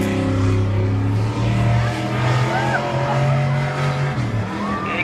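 Race cars roar off the green flag at the start of a short amateur auto race, including a modified car, with sustained loud engine drone, shifting whines, and occasional tire squeal; a commentator talks throughout.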